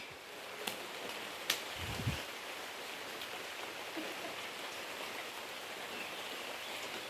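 Rain falls steadily outdoors with a soft, even patter and hiss, fairly faint, broken by a couple of brief knocks and a low thump partway through; no one speaks.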